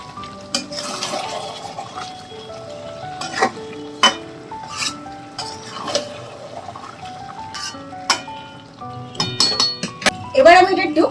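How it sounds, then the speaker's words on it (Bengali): Chicken with Kashmiri chilli powder, salt and a little water stirred in a pan, with repeated scraping and clinking of a spatula against metal and wet bubbling, close and uneven, while a voice talks. "আর এবার একটুখানি জল দেবো এটার সাথে। খুব ভালো করে নেড়ে দেবো।"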